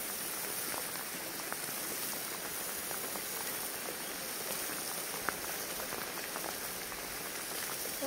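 Steady rain falls outdoors, a dense, even patter and hiss that continues unchanged throughout at moderate volume, with no voices.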